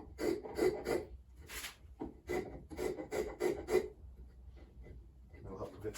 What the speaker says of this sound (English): Still want to chamfer this top piece real quick while I've got it.